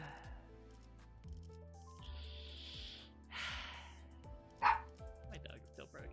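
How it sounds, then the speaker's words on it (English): A pet dog barks a few sharp, close bow-wows indoors, pleading to go outside, with a voice talking around the barks and a low background hum. "My dog's still barking at me."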